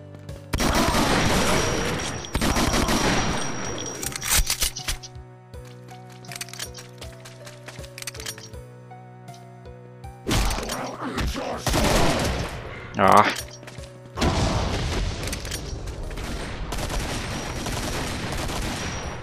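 Gunfire and an explosion ring out in the Doom mod Project Brutality, with dense bursts of rapid shots and booms in several loud clusters, separated by quieter stretches of game ambience and music.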